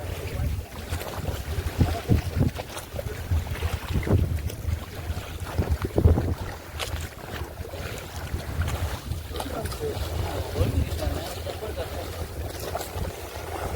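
Motorboat riding over rough sea with strong waves at evening, fishing trip; steady engine rumble with water slaps and gusty wind noise across the whole stretch, faint voices now and then.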